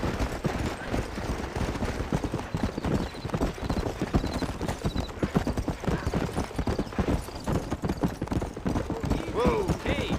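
Horse hooves clip-clopping in the western video game Red Dead Redemption, a steady, close rhythm of hoofbeats with a brief whinny near the end, under someone talking.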